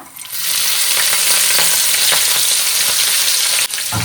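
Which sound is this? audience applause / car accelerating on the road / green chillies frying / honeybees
green chillies frying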